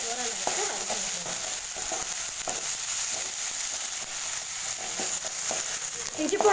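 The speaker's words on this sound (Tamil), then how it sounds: "இஞ்சி பூண்டு பேஸ்ட் சேர்த்துட்டு இதை நல்லா மிக்ஸ் பண்ணி வச்சு பச்சை வச்ச போகிற அளவுக்கு வதக்கிடுவோம்" Ginger garlic paste sautés in a pan for a brinjal masala fry, giving a steady soft sizzle with faint stirring scrapes throughout, close up and moderately loud.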